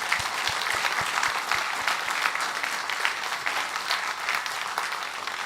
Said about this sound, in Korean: 다시 한번 서로 격려 박수하겠습니다